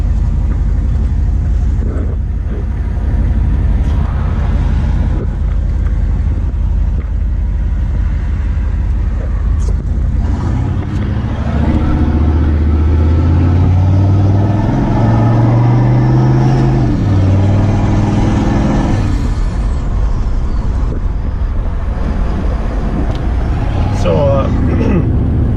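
A 1996 Chevrolet Tahoe two-door with a 6.5 turbo diesel drives along with its window down, the engine droning loudly and a rising then falling turbo spool whine emerging midway, with someone talking throughout.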